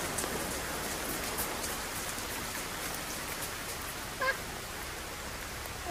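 Steady rain falling outdoors where a mother duck sits with her ducklings, a constant soft hiss of drops on surfaces running evenly throughout with one brief louder patter near the end.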